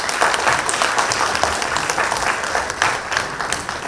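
Audience at a graduation ceremony applauding and cheering steadily as the graduating class enters the hall in procession, a dense, continuous wash of clapping throughout.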